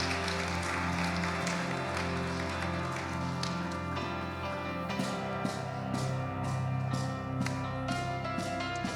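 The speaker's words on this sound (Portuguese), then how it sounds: "Aplauda o Senhor." A church congregation claps in praise during a worship service, scattered claps building into steadier applause over sustained organ-like music tones.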